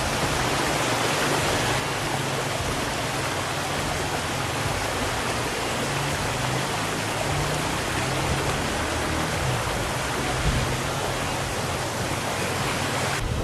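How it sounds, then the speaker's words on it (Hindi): Water rushes through a small water-powered mill, a panchakki, as a loud, steady hiss of flowing water that continues without pause. Nobody is talking. "ये इन्होंने पंचक्की सी बनाई हुई है, वो पानी से चलती है"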